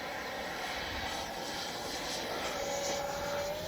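A Freewing Avanti S V2 RC jet takes off with flaps up and gear up, its ducted fan giving a continuous rushing whine that rises slightly in pitch, moderately distant and steady with no talk.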